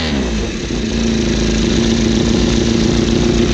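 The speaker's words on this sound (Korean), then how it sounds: "중간에 배기음 한번 듣고 갈까요?" Loud, close Honda motorcycle engine idling with a deep, steady exhaust rumble, slightly rising in pitch as it runs.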